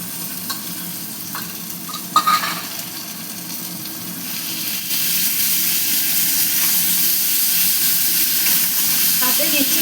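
Ginger, green chilli paste and cumin-coriander powder sizzle in a hot pan for a singi fish curry. A steady close hiss with a few stirring scrapes early on swells louder about halfway and holds.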